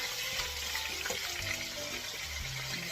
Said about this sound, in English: Listen to the boiling now.